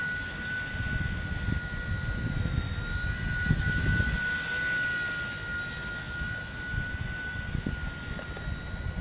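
Small WLtoys V922 RC helicopter in flight, a steady high-pitched motor whine with fluttering rotor buzz, continuous and fairly close, no talking.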